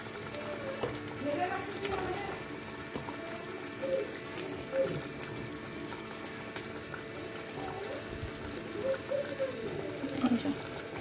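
Fried fish pieces go one by one into a pan of bubbling masala, with a low, steady sizzle and occasional soft clinks and bubbling bursts in a quiet home kitchen.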